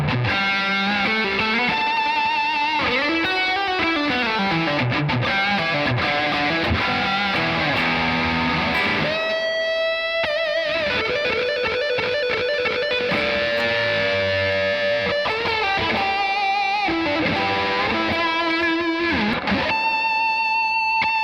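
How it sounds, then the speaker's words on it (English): Electric guitar drenched in heavy saturation plays sweeping, sustained lead lines and bends, thick and buzzing, with no voices. "Pair those two things together, you get some wild, crazy saturation"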